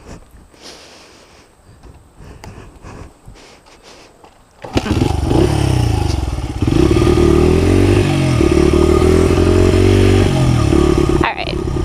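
A dirt bike is ridden around a property: quiet shuffling and handling noises, then the engine bursts into a loud, close, steady run with revving swells that hold to the end.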